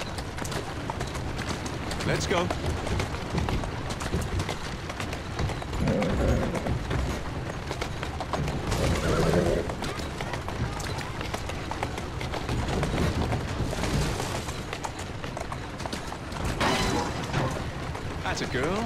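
Horse hooves clip-clop at a quick run in Assassin's Creed Syndicate, a continuous rhythmic pounding mixed with in-game ambience and occasional booms, while a voice talks briefly over it.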